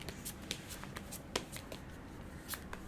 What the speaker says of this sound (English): So I'm going to be shuffling on camera.